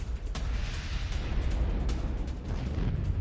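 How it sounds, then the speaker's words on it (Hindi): Hand grenade launcher fire during an attack on Ukrainian positions near the Russian border: a dull distant boom and rumbling blast noise, with faint sharp cracks over a continuous low roar. "हैंड ग्रेनेड लॉन्चर से यूक्रेनी ठिकानों पर हमला किया गया"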